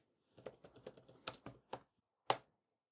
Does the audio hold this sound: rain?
no